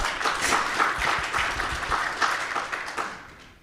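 Audience applause fills a startup conference hall in London, a dense and steady clapping that runs throughout before tapering off slightly at the end, with no talk over it.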